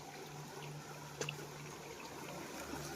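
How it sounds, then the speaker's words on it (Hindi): Water runs along a channel through a village field, a soft, steady broadband trickle with faint, continuous flow noise and no talk. "ये देखिए ये इधर से पानी चल रहा है, जा रहा है यहाँ पे।"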